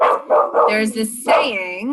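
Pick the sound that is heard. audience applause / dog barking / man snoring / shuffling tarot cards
dog barking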